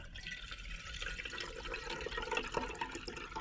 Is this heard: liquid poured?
yes